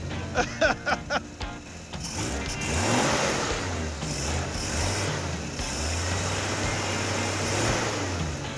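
An AMC Pacer engine idles and then revs under gentle throttle during an off-road road trip. A few sharp knocks come first, followed by a sustained mid-pitched engine drone that swells and holds. It sounds close and moderately loud.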